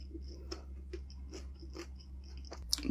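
Close, quiet crunching bites into crispy pata pork, with a series of sharp crackly chews spaced about every half second and no talking.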